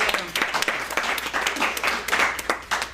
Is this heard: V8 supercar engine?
no